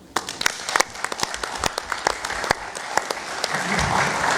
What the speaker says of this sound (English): I'd like to applaud Mr. Roberts on his 10 years